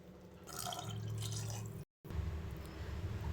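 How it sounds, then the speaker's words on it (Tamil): Water poured from a glass into a pot for cooking rice in a kitchen, a close steady pour with trickling splashes, briefly cut off and then resuming, no talk. "2 கிளாஸ் அரிசிக்கு 4 கிளாஸ் தண்ணி ஊற்றுறேன்."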